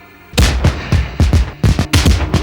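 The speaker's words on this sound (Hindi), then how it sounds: "आतिशबाजी कितनी एडवांस हो गई है। कई बम छूटने के बहुत देर बाद आसमान में जाकर पड़ते हैं।" Fireworks at the Asian Games opening ceremony in Bangkok, heard through a TV broadcast, burst in a rapid, loud run of overlapping bangs and booms that keeps going without a pause.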